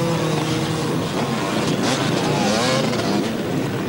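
An enduro motorcycle at a 1997 cross-country challenge in Schefflenz, Germany, churns and revs through deep mud, its engine loud and close, straining continuously throughout.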